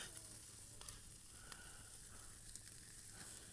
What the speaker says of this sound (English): See, cooking some hamburgers.